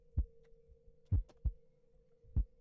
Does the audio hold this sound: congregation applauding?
no